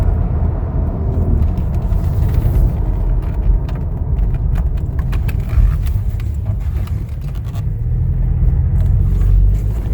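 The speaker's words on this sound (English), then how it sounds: "Really quick for a 4-cylinder. Drives really nice." A 2016 Toyota Tacoma double cab pickup with a 4-cylinder engine drives along, giving a steady, loud rumble of engine and road noise heard from inside the cab throughout.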